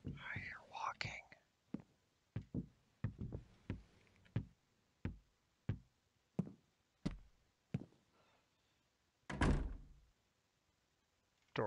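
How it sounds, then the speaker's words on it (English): A door shuts in the SWAT 4 tactical shooter game: a run of evenly spaced soft thuds and knocks, then one louder, heavier thump near the end, with faint whispering at the start. "Door shut."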